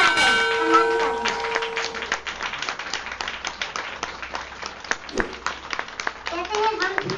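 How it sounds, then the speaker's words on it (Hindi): Audience clapping fills the hall at the inauguration of the Nepal-India World Development Forum, a dense run of sharp hand claps throughout, with some voices and a faint ringing tone mixed in early on. "तालियों की गड़गड़ाहट"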